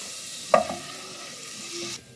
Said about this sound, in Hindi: आप लहसुन को गोल्डन ब्राउन कर लेंगे